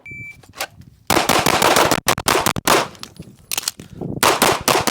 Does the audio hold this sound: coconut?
no